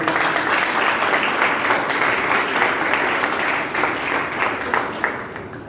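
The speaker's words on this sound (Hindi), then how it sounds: "एक बार उनके लिए बहुत जोरदार तालियां" An audience at a youth parliament event gives a long, dense round of applause for honoured guests, steady and fairly loud throughout before easing slightly toward the end.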